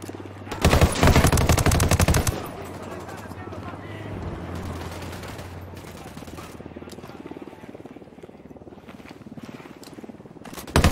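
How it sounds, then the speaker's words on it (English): Gunfire in the tactical shooter Ghost Recon Wildlands: a loud rapid burst of automatic fire early on, then scattered distant shots over a rumbling battle backdrop, with a final sharp report at the end. "Open fire. Roger. Opening fire."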